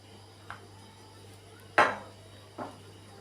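A utensil stirs bitter dark chocolate into a ganache in a bowl, giving three separate clinks: a light tap, a sharp, louder ring, then a softer knock, over a quiet steady hum.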